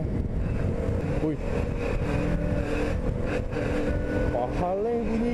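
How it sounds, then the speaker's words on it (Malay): A KTM RC 200 motorcycle engine runs steadily and loudly up close, a continuous droning rumble with slight shifts in pitch as it revs. "Ingat bunyi motor ni."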